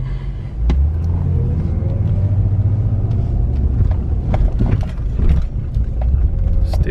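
A car eases through a dip in the road at a store entrance, a loud, close low engine rumble with a few knocks and thumps from the suspension as the wheels drop and rise.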